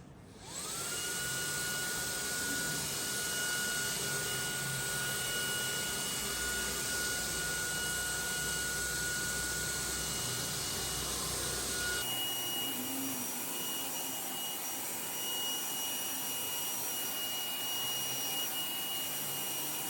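Agaro Supreme cordless vacuum cleaner running with its brush over a wire mesh, a steady high-pitched motor whine that drops in pitch partway through, close and loud with no talk.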